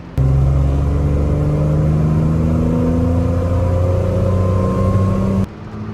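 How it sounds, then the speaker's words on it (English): A 1976 Datsun 280Z with its straight-six engine under way, a loud steady drone with the pitch slowly rising as it pulls through a gear, heard from inside the car and ending abruptly. "that straight six just hums along whatever gear you're in"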